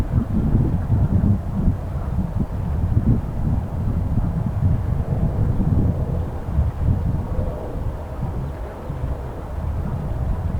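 Wind buffeting a DJI Mavic Air drone's microphone during a flight over New York City, a steady low rumbling roar that fills the whole stretch with no speech.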